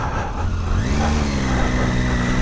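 A Triumph Tiger 800 adventure motorcycle on an off-road course catches and revs, its engine note climbing from a low rumble into a steady, close, loud hum.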